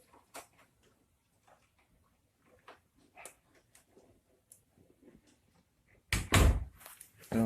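A house door knocks and thuds against its frame with faint scattered clicks, then a loud, close slam as it swings shut near the end.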